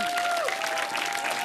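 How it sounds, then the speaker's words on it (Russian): A studio audience applauds a performer who played Miss Piggy at a vampire-themed wedding show, with thick sustained clapping, a faint crowd murmur and a thin tonal whine running through it. "Ваши аплодисменты."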